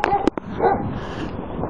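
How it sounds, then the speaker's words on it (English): A friendly dog gives a couple of short, sharp yips or barks close by at the start, followed by a low background murmur. "He's not unfriendly, that's a nice dog."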